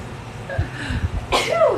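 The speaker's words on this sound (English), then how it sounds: "Oh, you're going to sneeze?" A single close sneeze bursts out after a brief intake of breath, over a low steady background hum.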